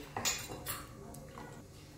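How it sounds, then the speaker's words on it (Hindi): A spoon scrapes and clinks against a pot while a cornflour and milk powder mixture is stirred, a few sharp metallic taps over quieter scraping. "इसे ऐसे कॉन्स्टेंटली हम हिलाएंगे"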